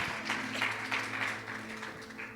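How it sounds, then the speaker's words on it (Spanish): Faint applause from a crowd, a steady patter of clapping with no voices over it. "Vamos a darle fuerte aplauso a Aimé Lobato."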